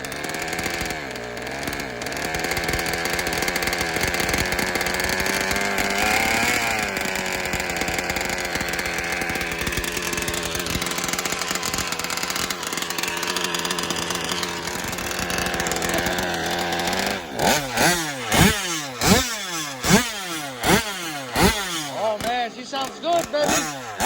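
A small 34cc two-stroke engine runs steadily after a new piston break-in, a loud, close, buzzing drone that later settles into a lumpy, pulsing idle.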